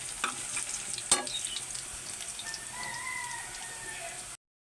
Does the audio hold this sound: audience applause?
no